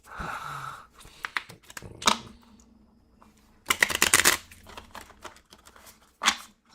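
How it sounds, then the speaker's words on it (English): Cards for the Marvel Legendary deck-building game being shuffled by hand, with bursts of riffling and flicking separated by quieter handling, close and fairly soft. "I've been shuffling for a while"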